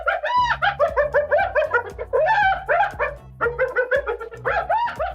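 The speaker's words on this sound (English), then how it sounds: "That's the sound of hyena." A hyena gives a rapid run of rising, whooping yelps and giggling calls, dense and continuous, close and loud with no voices.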